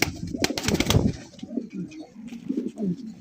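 Racer pigeons at a pigeon farm give a loud flurry of clattering wings and calls up close, then settle into repeated low, throaty cooing phrases.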